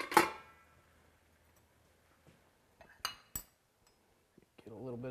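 Utensils clink against a plate and pot as cooked collard greens with bacon and red peppers are served, a sharp clatter at the start, then a few scattered taps, with a voice speaking briefly near the end.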